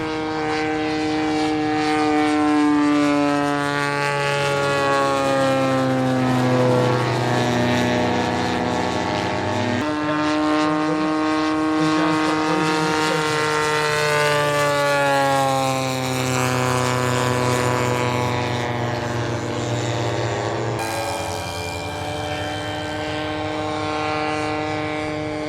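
A Top Flight RC warbird model airplane makes repeated flying passes, its propeller engine droning loud and steady with pitch rising and falling as it approaches and recedes, with no talking.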